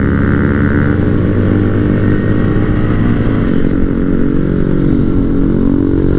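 Small-bore motorcycles on a group ride through the Smoky Mountains rumble loudly and continuously nearby, a steady engine drone with shifting pitch as a Jeep sits among the bikes.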